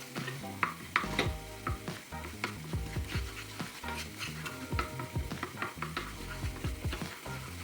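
Tomato paste stirred and melted in hot oil in a pan for homemade dumplings, a steady sizzle and frying crackle with frequent scraping stir strokes and light clinks of the utensil against the pan, close and continuous.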